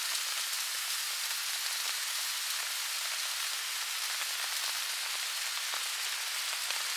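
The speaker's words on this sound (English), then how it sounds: "That rain is coming down." Steady rain drums on a tent during a thunderstorm while wild camping, a dense close patter that stays even throughout with no voices.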